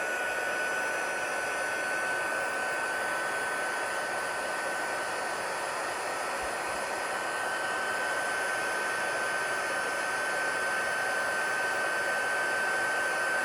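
A heat tool blows steadily over embossing powder on a card, a continuous close whooshing drone with a thin high whine, with no talking throughout.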